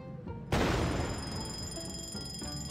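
Fireworks go off in the video game Bum Simulator: a sudden loud burst of explosions that settles into a sustained crackling, booming barrage with no talking.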